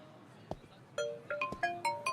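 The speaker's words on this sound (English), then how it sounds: "Then, he received a phone call from someone." A phone ringtone sounds for an incoming call on a street after work, rising from a couple of isolated beeps into a clear repeating melodic pattern of bright tones, close and loud.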